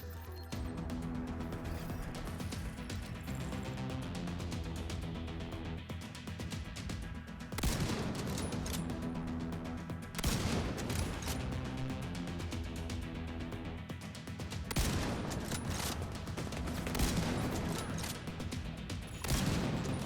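Bursts of fully automatic rifle fire from the Ravenous exotic rifle in the Division 2 video game, several loud volleys separated by quieter stretches over a steady game soundscape.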